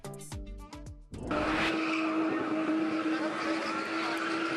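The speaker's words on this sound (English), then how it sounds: "This is spinning, a turbocharged sport where drivers spin cars in quick, tight circles" A car spins in quick, tight circles in a Johannesburg spinning event, its turbocharged engine roaring continuously and tires squealing loudly and steadily after a brief burst of music at the start.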